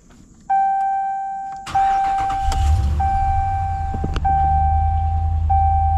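A Ram pickup truck cranks and fires up, a chime tone sounding before and during the start, then the engine settles into a steady low idle close by.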